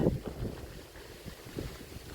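Wind gusting outdoors in rural Thailand, a steady broad rush with low rumbling buffets against the microphone, rising and falling over a couple of seconds with no voices.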